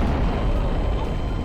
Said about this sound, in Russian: Третий взрыв.